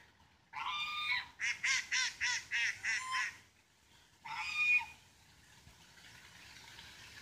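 Ducks near water give a rapid run of loud honking quacks, about eight pulsed calls in a row and then one longer call after a pause, close by, followed by quiet ambient background and no talk.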